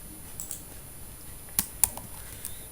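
Keys on a computer keyboard are tapped while HTML code is typed, a few soft, sparse clicks close by in a quiet room, with two sharper keystrokes near the end.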